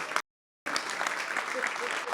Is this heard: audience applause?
yes